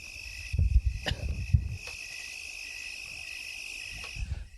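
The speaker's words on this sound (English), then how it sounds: "Alexa, play cricket noises." Cricket noises play from an Alexa smart speaker as a steady high chirping drone, with a few low thumps and brief room noises near the start.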